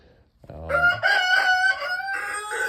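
A rooster crows loudly and close, one long drawn-out call, with faint clucking from other chickens in a coop at the start.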